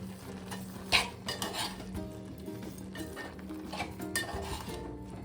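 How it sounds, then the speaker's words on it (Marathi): Carrot halwa with milk stirred in a pan with a spoon, giving soft scraping and clinking strokes against the metal over a low simmering sizzle, close and steady without voices. "असे घाटे मारत राहायचे"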